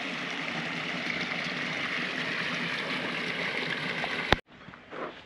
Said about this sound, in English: Just a trickle, but it's enough. Constantly flowing.